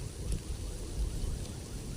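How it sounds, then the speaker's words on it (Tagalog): Sudden rain falls at a fishing spot, a steady hiss of raindrops spattering the surface with low rumbling gusts underneath, continuous and fairly close, no voices. "Biglang ulan."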